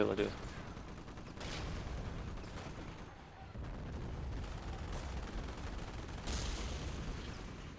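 Machine gun fire in a WWII strategy game crackles amid a busy battlefield din of scattered shots and booms, with sharp bursts standing out at moments and faint talk mixed in.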